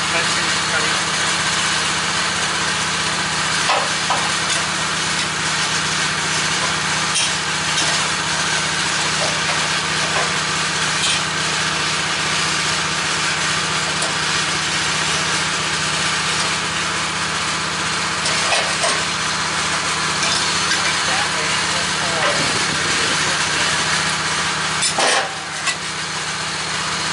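A Woodmizer LT15 sawmill engine runs continuously and loudly while cutting a log into boards, with a steady drone and occasional clunks.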